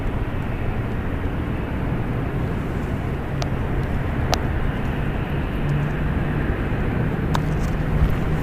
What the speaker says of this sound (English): Now Airlines Flight 901 departing to London Heathrow. It's a Boeing 777-200ER, 25 years old.